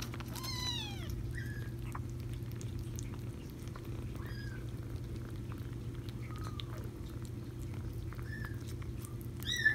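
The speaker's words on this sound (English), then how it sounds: "It's just the Siamese kitten." A tiny Siamese kitten meows several times in high, rising-falling cries, faint and spread through a steady low hum, with small soft patters in between.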